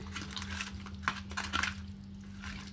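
Food being stirred and mixed in a pan with a utensil, producing soft scraping and clinking against the metal, close and moderate, with a steady low hum underneath and no talking.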